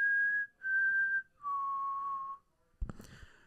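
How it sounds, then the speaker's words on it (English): A person whistles the Hunger Games whistle tune, three clear sustained notes with short gaps, followed by a brief burst of noise at the end. "I just gave three people the Hunger Games whistle"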